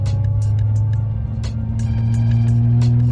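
Steady low drone of Patagonia Milestar MT mud-terrain tires on pavement under a lifted Honda Ridgeline at constant speed. It is a loud, even hum with a sustained tonal whine and faint intermittent ticks, with no talking.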